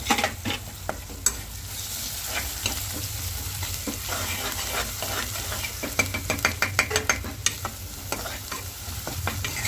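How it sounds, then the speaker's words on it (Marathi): Masala fries in a pan while being stirred, a steady sizzle broken by repeated scraping clatters of the spoon against the metal, close and fairly busy throughout. "चांगला मसाला एकजीव करायचा."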